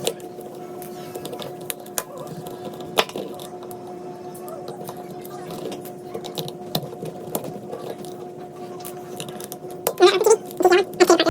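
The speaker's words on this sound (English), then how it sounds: "So let's start unscrewing." Small screws are backed out of a Roku remote with a screwdriver, giving faint, sparse ticks and scratchy clicks near the mic, growing into a busier burst of rattling handling at the end.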